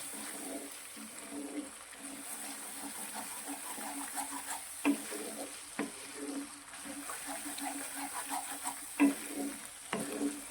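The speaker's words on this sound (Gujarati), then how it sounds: "બધા જ મસાલાને સારી રીતે સાંકળીશું" A ladle stirs brinjal and valor beans with turmeric, coriander-cumin powder and garam masala in a kadai, a soft steady sizzle broken by a few louder scrapes and knocks against the pan.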